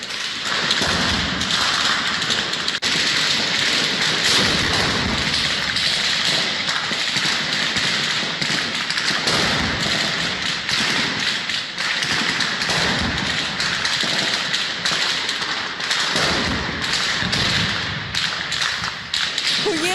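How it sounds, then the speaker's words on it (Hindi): Wartime gunfire and explosions in the Russia-Ukraine conflict make a dense crackle of sharp shots and thuds over a continuous low rumble. The din stays loud and unbroken throughout. "सुन रहे हैं आप गोलियों की तड़तड़ाहट, गड़गड़ाहट"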